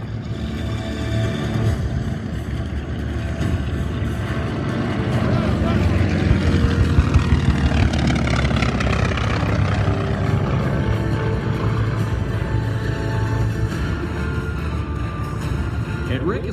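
A Grumman Wildcat and an SNJ trainer, both WWII warbird propeller aircraft, make a pass at the Miramar airshow, with a steady droning engine roar that swells in the middle, heard under continuous commentary over a public address.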